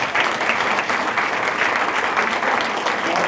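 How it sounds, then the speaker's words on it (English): A large audience applauds steadily at a Small Business Center launch challenge event. The clapping is dense, loud and continuous throughout, with no gaps. "and you all should be clapping right now."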